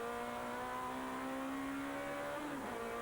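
Onboard engine of an FIA GT NGT class race car holds a steady high-pitched drone, then the pitch drops as the driver lifts off near the end, with rain on the track.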